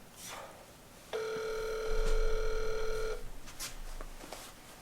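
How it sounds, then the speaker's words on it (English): A single electronic telephone ring tone sounds steadily for about two seconds over faint room noise, with a brief soft voice nearby. "It's ringing."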